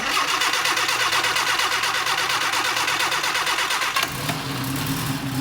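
A 58-year-old English car, freshly rebuilt and not yet tuned, cranks and fires up, giving a loud continuous rough mechanical churn that shifts into a lower, steadier running note after about four seconds.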